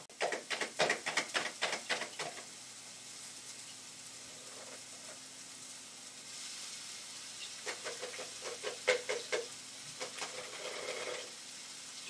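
Onions dropped into a hot, smoking pan crackle and sizzle in sharp bursts, then settle into a quiet steady hiss before another flurry of crackles; faint and fairly close.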